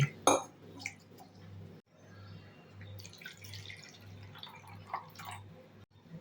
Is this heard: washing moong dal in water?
yes